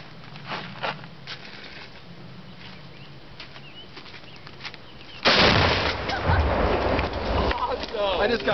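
Eight small bottles of Tannerite detonate outdoors: one loud, sudden blast hits about halfway through and rumbles on with scattered debris noise, after a quieter stretch of voices and background rustle.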